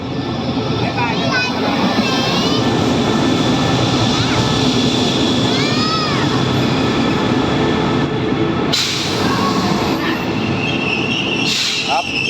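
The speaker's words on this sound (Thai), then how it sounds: "นี่ครับรถไฟก็เดินทางมา" A loud train arriving at Udon Thani railway station rumbles continuously up close, its wheels squealing and screeching at intervals over the heavy rolling noise.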